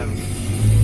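A Kramer wheeled loader engine runs with a brief, steady low drone that grows slightly louder toward the end.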